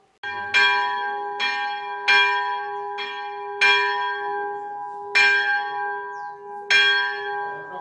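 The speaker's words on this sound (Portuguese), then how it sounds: "falou pra gente fazer um pedido e tocar o sino que tem na igreja" A church bell in a small chapel at a winery rings six times at a slow, uneven pace, each clear metallic strike hanging and ringing on before the next.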